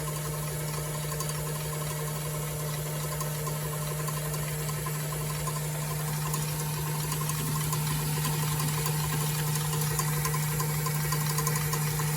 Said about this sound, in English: I'm going to beat it till it's a little frothy here.